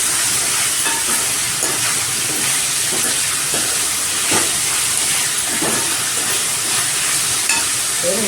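Ginger, garlic and curry leaves sauté in a pan with a steady, close frying hiss, broken by faint scrapes and soft ticks of stirring throughout, with no voices.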